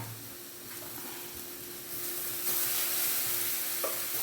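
Curry leaves sizzle in hot oil while a traditional Kerala leaf thoran is stir-fried, a soft steady frying hiss that grows louder partway through, with faint scraping of the spoon and no talking.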